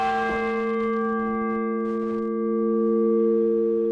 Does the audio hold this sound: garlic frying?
no